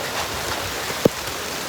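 Heavy rain falling during an outdoor LED screen wall setup, a continuous soft broadband patter with one brief sharp knock near the middle, no talking.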